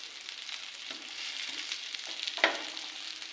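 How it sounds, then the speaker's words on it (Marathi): Fish fries in oil with a soft, even sizzle heard nearby, interrupted by a few light scrapes and one sharper clink of a utensil, with no speech. "आपली मच्छी झाली का बघूया तळून"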